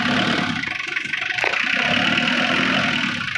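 A Mitsubishi Triton's 4D56T turbo diesel engine, started after sitting unused for over ten years, runs steadily and loud and close, with a brief rise in revs partway through.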